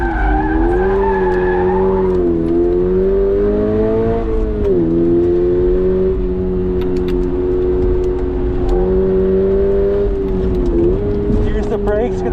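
A stock 2022 Subaru BRZ on a race track, its engine holding a steady droning note that swells and dips through the corners, loud and close throughout, with a voice talking over it.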